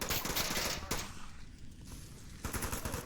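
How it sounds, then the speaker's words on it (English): Gunshots from a player in the VR shooter Onward, heard as loud rapid bursts of automatic fire, a pause, then another burst near the end. "Skater's gonna let out shots."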